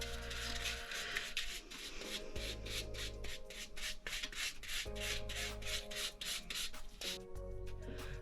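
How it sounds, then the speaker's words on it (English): A brush swishes rapidly back and forth as white paint goes onto a Dollar Tree pumpkin, giving quiet, close, rhythmic rubbing strokes over a steady background of music. "So I'm going to paint the full pumpkin white."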